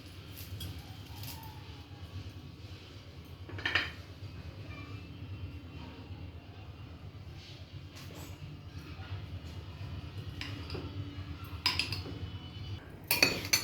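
Faint metal utensils clinking against a pot while onions, mint and coriander go in for a tomato chutney, a few scattered clinks over a low steady background hum, with a louder clatter near the end.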